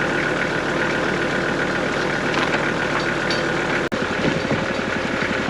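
Tractor engine idling close by in the woods, a steady, rough, knocking rumble that runs unbroken apart from a single brief click partway through.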